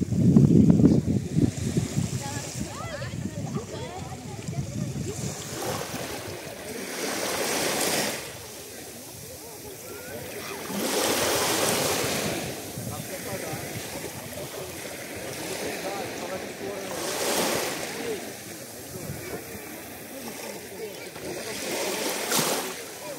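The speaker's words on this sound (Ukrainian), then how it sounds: "Таке вечірнє море." Evening sea waves at the beach in Fontanka near Odesa roll in as slow, recurring surges of wash and surf, rising and falling every several seconds against a soft steady background.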